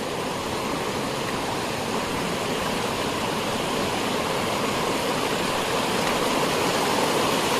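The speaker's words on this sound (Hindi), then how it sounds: "ये देखिए पानी काफ़ी तेज फ्लो में है" Fast-flowing clear river water in a rocky valley rushes steadily and loudly close by, a continuous broadband roar with no talk over it.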